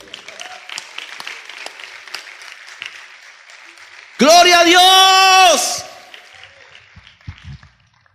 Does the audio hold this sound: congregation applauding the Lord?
yes